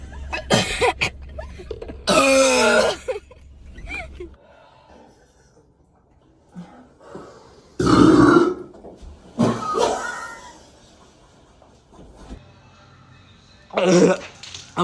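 Several short burps or cough-like bursts while drinking Sprite in a challenge, scattered across the stretch with quiet pauses between them and some vocal sounds mixed in.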